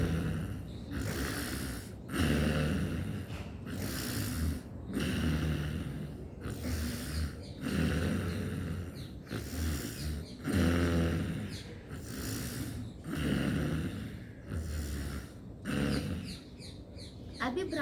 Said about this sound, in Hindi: सांस को लेते समय और छोड़ते समय गले के अंदर खर्राटे जैसी आवाज करनी